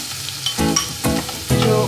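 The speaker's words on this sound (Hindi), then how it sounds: "जो ओनियन कद्दूकस करके रखा हुआ था ओनियन को डालूंगी।" Grated onion hits hot oil in a Bengali pomfret curry preparation, giving bursts of loud close sizzling and frying that flare up about three times and settle between them, with no voices.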